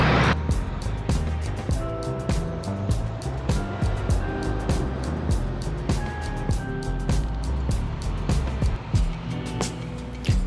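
A bicycle tows a wood-fired hot tub trailer on a first test drive, giving a steady close rolling rumble with a stream of quick clicks and rattles from the wheels and frame, broken by a few brief tonal squeaks.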